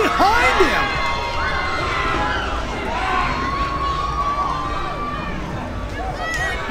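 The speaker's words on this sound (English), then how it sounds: "Hunter Freeman getting this crowd here in Fresno behind him." A live wrestling crowd in Fresno cheers and shouts behind a tag-team wrestler during a lucha match, a broad roar of voices with whistles and yells, with commentary running over it.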